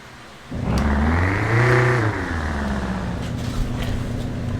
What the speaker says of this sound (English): I'm gonna sit here and I'm gonna idle my engine